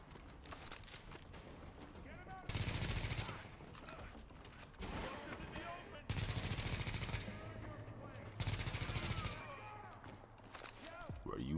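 Automatic gunfire in the shooter video game The Division comes in several loud, rapid bursts of a few seconds each, with players talking between and over the shots.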